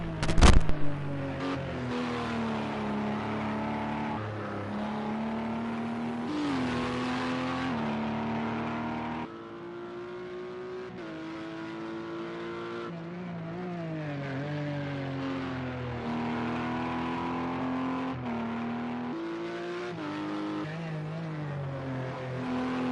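LMP2 and GTE race cars in a racing video game at Watkins Glen, steady droning engine tones rising and falling through gear changes, a sharp burst at the start, continuous for over twenty seconds.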